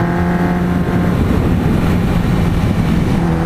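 A 2004 MV Agusta Brutale 750S motorcycle engine runs steadily and loudly, a continuous throaty drone with a low rumble that holds for several seconds without pause.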